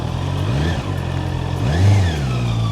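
A motorcycle engine revs aggressively while riding, loud and close, its pitch rising and falling through a couple of throttle surges with no talk.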